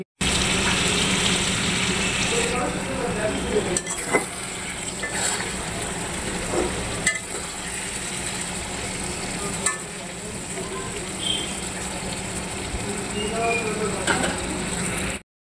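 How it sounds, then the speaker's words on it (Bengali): Chicken sizzles steadily in a pan, a continuous frying hiss broken by occasional sharp clicks and scrapes of stirring, with faint talk underneath. "তো চিকেন রান্না করছি, দেখালাম।"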